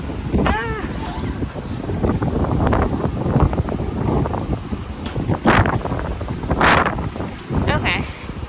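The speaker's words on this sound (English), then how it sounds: "the wind blew it open" Wind gusting outdoors, steady roaring buffeting with a few sharper bursts, loud and close, with voices talking over it.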